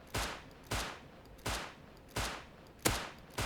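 Rust video game gunfire with six evenly spaced single shots about half a second apart, each a sharp crack with a short fading tail, moderately loud and alone.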